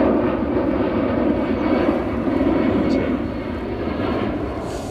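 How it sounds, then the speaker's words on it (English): A Volaris jet's engine runs up at an airport near the Airbus factory in Toulouse, a loud, steady roar heard from a distance that eases slightly toward the end, with someone talking over it. "engine running, folks, I think it's that Volaris jet, although they have now turned the beacons off. They're running it up, definitely."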